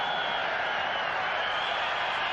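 A stadium crowd of about 55,000 at a football match between Canada and Brazil roars as a steady, dense wash of noise, distant and unbroken.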